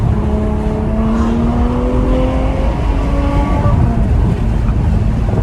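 A Ferrari 812 Superfast's 6.5-liter naturally aspirated V12 runs steady and loud up close, its engine tone rising and falling in smooth sweeps alongside heavy rumble.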